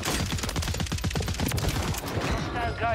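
Rapid automatic gunfire in Call of Duty Warzone, a dense stream of close shots lasting about two seconds, then fading under a player's voice.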